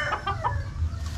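Chickens cluck softly nearby in a short run of quick, throaty calls over low background noise.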